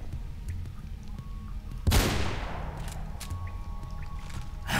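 A single loud gunshot in the Mirror's Edge video game, a sharp blast that fades over a couple of seconds amid quieter game ambience and faint clicks.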